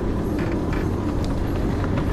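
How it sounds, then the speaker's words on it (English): A small model-engineering locomotive rumbles along the track nearby, a steady low rolling drone with faint rhythmic clicks over its short span. "We hopped on my friend's locomotive and headed out onto the main line"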